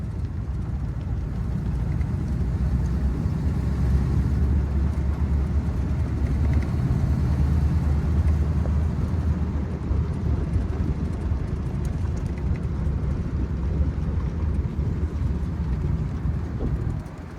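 A 1931 Packard 840 Dual Cowl Sport Phaeton cruising in high gear, its engine a steady low rumble that holds even throughout, mixed with road and wind noise and no talking.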